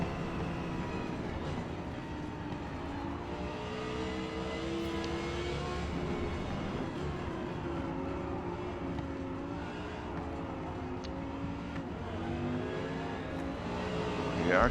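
An Audi R8 race car engine drones and whines with shifting pitch through corners at Mid Ohio in Forza Motorsport, with rival GT cars around it, steady and moderately quiet with no talk.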